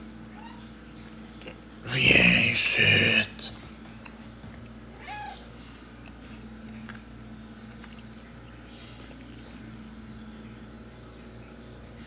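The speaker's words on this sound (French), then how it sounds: "Je pense que j'ai trouvé le chat." A cat meowing inside a French-language video game: one loud, bright call lasting about a second, with a softer mew soon after, heard alone over quiet game ambience while a person speaks briefly.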